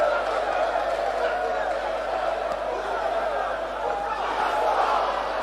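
Crowd noise swells around the final round of a Ghana Professional Boxing League heavyweight bout, a steady roar with shouts and whoops carrying beneath a commentator's continuous talk.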